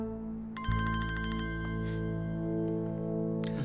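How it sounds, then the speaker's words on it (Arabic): A mobile phone rings close by with a bright repeating electronic ringtone over a steady low background hum, with no talking heard. "بابا موبايله عم يرن، يمكن يكون يسار ما غيره."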